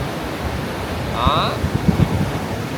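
Rough sea waves crash on the beach at Huế under steady wind rumble, a broad continuous wash with a brief tonal whistle, while a voice speaks a short word over it.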